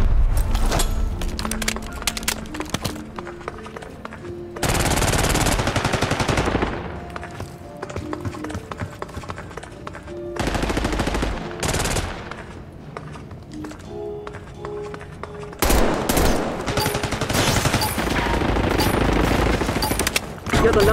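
Loud bursts of automatic gunfire and explosive booms from a Call of Duty match, coming in dense volleys separated by quieter stretches of game sound and background music.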